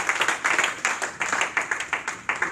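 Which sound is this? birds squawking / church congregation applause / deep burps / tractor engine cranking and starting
church congregation applause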